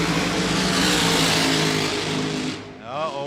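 An AA fuel altered drag car engine running at a hot rod reunion, a loud, harsh, crackling roar that dominates before easing off near the end, with a voice starting to talk as it fades.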